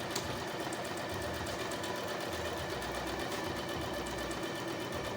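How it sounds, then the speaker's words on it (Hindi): A Janome 999sp full-automatic sewing machine runs steadily, its needle stitching with a fast rhythmic whir and clatter that stays constant and close throughout, no talk over it. "तो देखते हैं कौन सा टांका बनाती है ये मशीन।"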